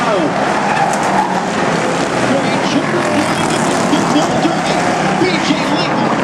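Stock cars race at the Snowball Derby, engines roaring in a dense, continuous wash with tire squeal and skidding, loud and close, while a commentator talks excitedly over the pack.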